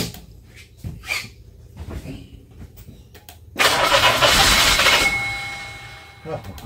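A car engine cranks, catches and starts after a fuel-leak repair, a loud surge of starter whine and revving that settles back down, preceded by scattered clunks and brief speech.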